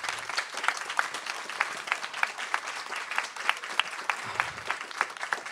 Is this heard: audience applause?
yes